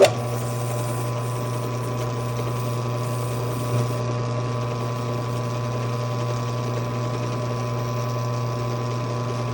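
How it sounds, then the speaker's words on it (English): An intake valve cleaner spins a cylinder head valve against a Scotch-Brite pad, a steady, even motor hum with a constant low drone throughout, close and unchanging, with no talk. "Now that we got our intake valve cleaner on there, we can go ahead and spin this up."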